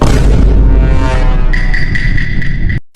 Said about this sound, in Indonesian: Dan tidak lupa meledak.